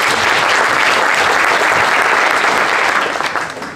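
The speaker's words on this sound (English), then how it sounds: "Please give him a warm round of applause, Patrick van de Klooster." Loud, full applause from an audience at an architecture awards ceremony, a thick continuous roar of clapping close and steady before tapering off at the end.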